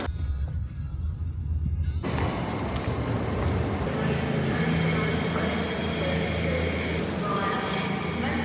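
A train at a railway station rumbles loudly and steadily, with wheels squealing on the rails and busy platform ambience throughout, while voices are faintly audible underneath.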